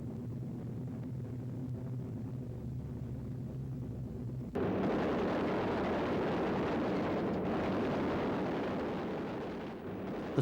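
Roar of a WWII B-17 bomber's top turret machine gun opening up on attacking fighters, a dense continuous rattle that bursts in abruptly over the droning engine hum and holds at steady loudness without speech.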